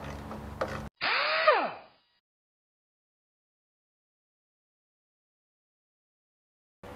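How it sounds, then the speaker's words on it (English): Power tool spinning out a 10 mm window track bolt on a 2013 Volkswagen Routan sliding door, a short whirring burst that winds down, preceded by brief clattery handling and then silence. "so we'll go ahead and remove those bolts. And they're 10 millimeter."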